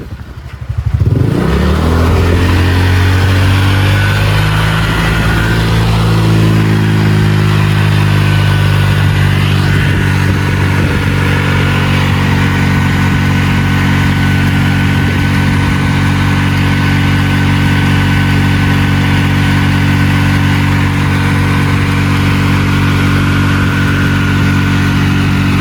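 A motorcycle with a fully stock engine (standard piston and camshaft, no porting or polishing) revs through a bass aftermarket exhaust. It roars up sharply after a brief pause, then holds a loud, deep, steady drone for the rest of the clip.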